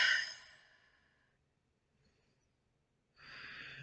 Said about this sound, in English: Take a few deep breaths and a few calm breaths.